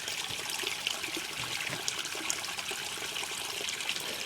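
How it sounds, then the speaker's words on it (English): A babbling brook trickles and gurgles under a footbridge, a soft, continuous flow of water heard up close with no talking. "I guess this is the Babbling Brook."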